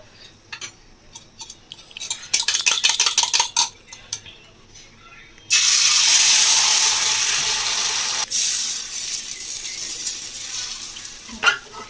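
Metal utensils clink and rattle against a pan while cooking oil goes in for an omelette, then a loud, steady sizzle takes over and gradually fades, with a few scrapes near the end.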